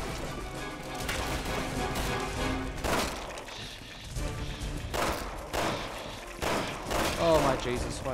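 Grenade launcher fire and explosions in the co-op video game Resident Evil 6, with repeated heavy blasts and crashes over a constant loud game din, hitting in an irregular rhythm.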